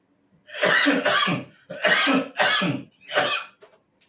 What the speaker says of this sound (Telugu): దగ్గు, అలాగే కఫ్ ఇలాగా ఉంది